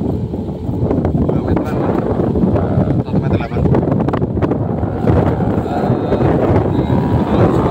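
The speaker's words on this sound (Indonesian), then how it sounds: "Sepertinya anginnya kencang banget" Strong wind buffets the microphone outdoors while a small kite, about 120 cm tall with a wingspan near 180 cm, is flown; loud, steady rumbling gusts run throughout, with a person talking over them.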